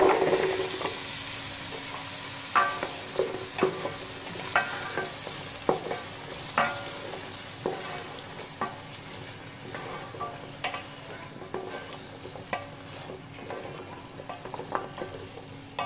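Taro (kochur mukhi) stir-fried in a cooked-down spice paste for a hilsa curry, a steady sizzle broken by repeated scraping clicks of a spoon against the pan, close and moderately loud with no talking.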